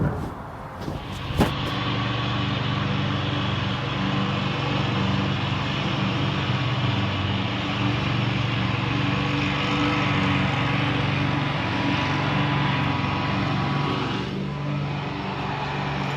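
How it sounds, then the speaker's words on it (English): A lawn mower drones steadily nearby for the whole stretch, a constant mid-level engine hum with a few brief clatters at the start and no talking. "Yeah, I don't drive a lawnmower either."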